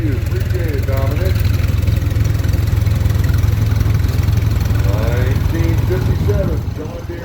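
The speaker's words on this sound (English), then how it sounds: "Next up, a 1947 John Deere M." A 1947 John Deere M tractor engine runs steadily as the tractor passes in a parade, a loud continuous low throb with an announcer's voice talking over it.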